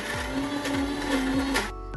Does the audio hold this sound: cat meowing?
no